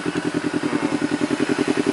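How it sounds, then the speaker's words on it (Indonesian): A Honda CBR250RR motorcycle engine, repaired after O2 sensor and throttle faults, idles with a steady, even run of close, thumping pulses and no other sounds. "Ya, tadi nyalainnya cukup lama, jadi dia idle-nya sudah mulai normal,"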